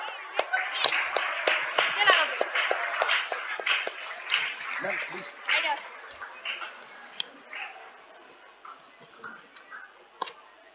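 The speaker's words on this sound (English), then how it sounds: "Everyone a huge round of applause for our Ajijur sir." Audience applause at a school Independence Day celebration: a burst of clapping rises in the first few seconds, then thins into scattered claps that taper off, with voices talking over and around it.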